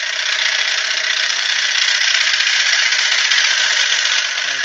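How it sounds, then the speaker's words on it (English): A wood lathe turning a wooden bowl while the tool cuts through an end-grain knot, giving a steady, loud hissing roar with a rattling edge that runs unbroken and alone. "Some of the noise you can hear, guys, at the moment is where Andy's cutting the knot"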